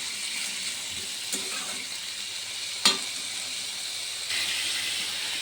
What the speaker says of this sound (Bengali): আলুগুলো আর পেঁয়াজগুলোকে একটু হালকা করে ভেজে নেব।